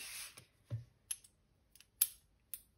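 Paper being cut with scissors for a scrapbooking mailbox project: a handful of separate crisp snips, spaced out and close by, with no voices.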